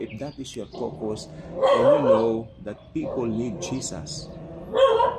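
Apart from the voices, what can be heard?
dog barking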